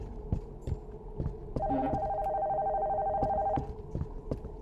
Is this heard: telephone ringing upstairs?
yes